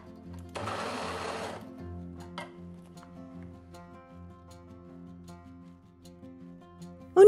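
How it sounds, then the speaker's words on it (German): A kitchen blender purees mango pieces for mango mint chutney in one loud whirring burst of about a second, then cuts out, leaving faint hum and small clicks. "Hier füge ich die restlichen Mangostücke hinzu und alles weiter pürieren."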